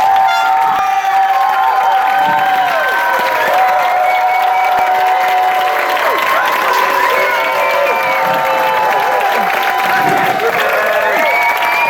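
An audience at a science team competition applauds and cheers in a steady, sustained wash of clapping mixed with crowd voices and occasional shouts, filling the whole stretch at an even loudness.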